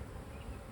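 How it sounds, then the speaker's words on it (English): Honey bees buzzing during a hive inspection, a faint steady drone of many agitated bees close around. "Look how much more aggressive the bees got"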